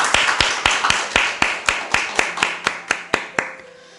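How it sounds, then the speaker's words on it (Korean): A church congregation at a prayer retreat claps in unison, sharp rhythmic claps at a steady brisk pace, about a dozen in a row before fading out. "우리 하나님 앞에 영광의 박수 칩니다."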